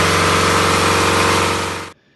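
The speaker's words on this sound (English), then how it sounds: "The cooling fan produced a high-pitched whir that cut through the deeper diesel thrum." A Deutz F4L912 air-cooled diesel runs loud and close, its deep thrum overlaid by a high cooling-fan whir, then cuts off abruptly near the end.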